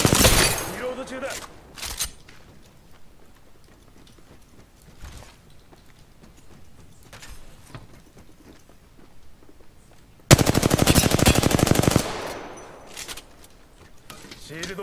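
Bursts of automatic gunfire in a video game: a few brief shots early, then a long, loud, continuous rattling volley near the end, with sparse quieter sounds between.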